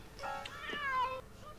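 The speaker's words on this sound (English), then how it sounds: "Persian cats." Persian cats meow in a drawn-out, wavering call lasting over a second, close and fairly clear, with a second fainter mew at the start and no talking.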